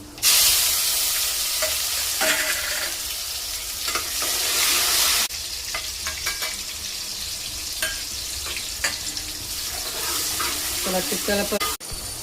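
Tomatoes hitting hot oil with mustard seeds, curry leaves and asafoetida for a sambar tempering, giving a loud hiss that settles into a steady sizzle with scraping stirs and occasional pops.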